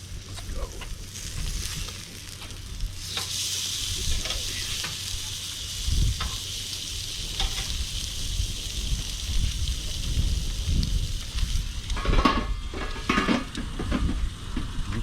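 A steak sizzles on a small Weber grill in a continuous crackling hiss, with occasional clinks of utensils and grill handling, heaviest toward the end.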